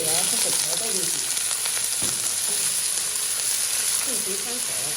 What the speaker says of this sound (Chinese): 随后把我们切好豆芽和粉条倒进去